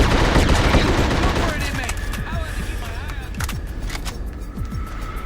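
Enemy gunfire in the video game The Suffering: rapid bursts of shots, dense and loud at first, then thinning to scattered sharp cracks over a busy game backdrop.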